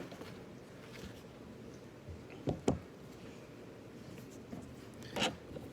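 Straight razor, a Filarmonica 14, with its edge drawn across a 5K whetstone, giving a faint steady scratchy rasp with a few short sharper strokes, quiet and close with no talk.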